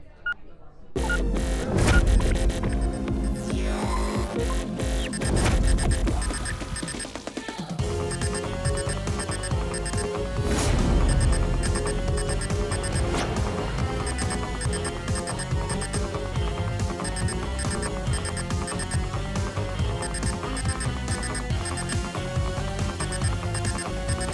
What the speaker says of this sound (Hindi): ये बॉम्ब के बीप की आवाज नहीं है, ये कुछ और ही चक्कर है।